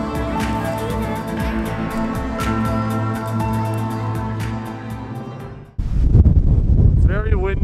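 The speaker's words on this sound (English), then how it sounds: "It's very windy today." Wind gusts buffet the microphone, first under a steady tonal background, then loud, rumbling bursts take over near the end.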